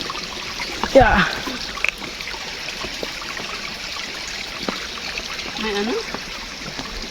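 A waterfall along a hiking trail near Baguio City, a steady distant rushing wash of water running throughout beneath people chatting, with a brief rustle near the start.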